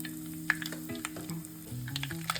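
Mustard seeds, cumin, curry leaves, hing, chana dal and urad dal sizzle in a small pan of oil for onion chutney, with crackles, pops and a light stir, close and fairly quiet.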